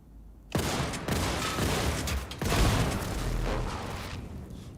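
Shotgun fire in Wolfenstein 2: three heavy, booming blasts spaced a second or so apart, each trailing into a dense, reverberant tail, loud and close with no talk.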